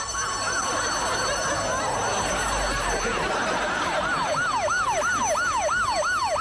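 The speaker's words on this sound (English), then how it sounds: "where's the key to turn the burglar alarm off?" A loud electronic alarm wails with rapid rising-and-falling tones, repeating steadily over a constant noisy background.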